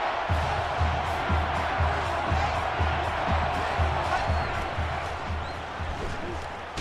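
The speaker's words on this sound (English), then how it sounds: "This crowd in full throat right now." Stadium crowd roaring in NCAA Football 13 during an Ohio State vs Michigan game, a dense, loud, continuous wall of cheering with a faint rhythmic thump underneath, steady throughout.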